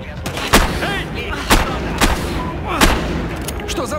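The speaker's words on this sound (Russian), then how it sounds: "Что за выстрелы?" Gunfire rings out in the police shooter game Battlefield Hardline, several sharp separate shots spread across a few seconds over a busy background of distant commotion.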